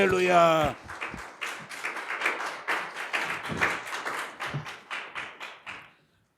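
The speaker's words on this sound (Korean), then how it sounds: "우리 박수로 환영합니다" A church congregation at a 36th anniversary thanksgiving service claps steadily in welcome for a preacher. A voice speaks briefly at the start, then dense handclaps fill the room for several seconds before fading out.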